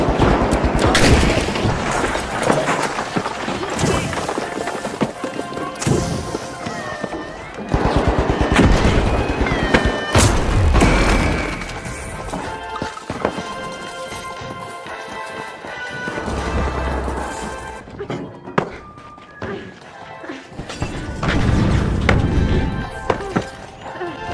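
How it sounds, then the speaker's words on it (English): Repeated booming pyro grenade blasts and gunfire-like bursts in the competitive shooter THE FINALS, loud and close, in irregular clusters over a dense, chaotic game mix. "Throwing pyro grenade."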